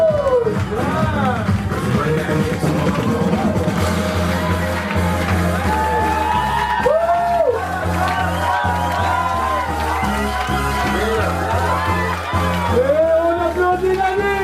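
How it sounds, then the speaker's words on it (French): A crowd at a makeover fair fashion show in Arlon cheers and shouts over a continuous roar of applause, with a loud voice speaking over the noise throughout. "Un tonnerre d'applaudissements"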